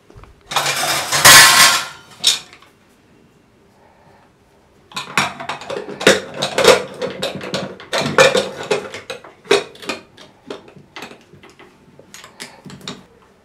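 Metal clatter and clunks as a pressure cooker is closed with its lid and handled, a loud burst at first, then a pause, then a busy run of knocks and scrapes.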